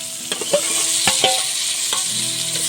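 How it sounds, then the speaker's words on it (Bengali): Fried potatoes are stirred into a sizzling spice masala for ghugni. A steady frying hiss runs throughout, broken by occasional clinks and scrapes of the stirring spoon. "এবার যে ভেজে রাখা আলুটা সেটা এই কষানো যে মশলাটা এর মধ্যে দিয়ে দেওয়া হবে"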